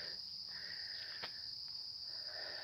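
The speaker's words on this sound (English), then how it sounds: "you can hear all those cicadas" Cicadas drone steadily outdoors, a continuous high-pitched buzzing that stays even and unbroken throughout, with no voices present.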